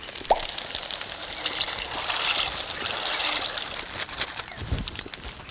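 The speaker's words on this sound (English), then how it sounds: "we're going to add some extra water, and we are going to cook our macaroni straight in there" Water pours and trickles into a cooking pot on a single camping burner before macaroni goes in, a close, continuous splashing stream swelling and easing over a few seconds.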